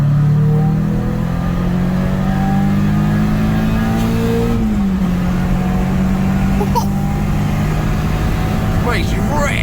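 A Peugeot 306 GTI-6 from the 1990s accelerates from inside the cabin, its engine droning and rising steadily in pitch, loud and continuous, with voices talking over it.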